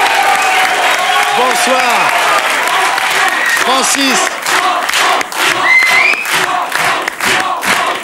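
A television studio audience applauds and cheers loudly as a French singer comes on, sustained clapping with whoops, while a host's voice greets him over the noise.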